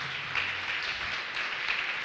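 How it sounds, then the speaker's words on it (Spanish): A church congregation applauds together, a steady wash of many hands clapping at moderate level that holds evenly for a couple of seconds with no voices. "Dale un fuerte aplauso al Señor por esta palabra."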